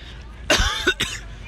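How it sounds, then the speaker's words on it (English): A few quick close coughs from a person inside a smoky haunted attraction, two or three harsh bursts in a row. "all this smoke making me cough."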